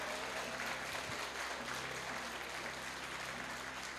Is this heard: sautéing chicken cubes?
no